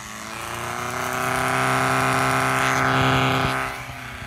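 A synthesized engine-like drone hums steadily, swelling in loudness and roughness before dropping back, with strong buzzing harmonics and no voices.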